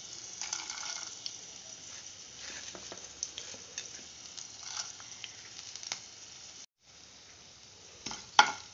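Urad dal sizzling in hot oil, a soft steady frying hiss with scattered stirring clinks and scrapes, dipping briefly near the end before a sharp spoon knock.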